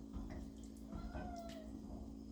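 A cat cries and meows in a home kitchen: a few short, wavering wails rise over a faint, steady background hum, fairly quiet and with no talking.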